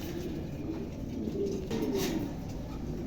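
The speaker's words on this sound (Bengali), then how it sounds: "দেখার মতন একজোড়া কবুতর" A pair of big pigeons coo steadily in soft, low, repeated calls, close by, with no talking over them.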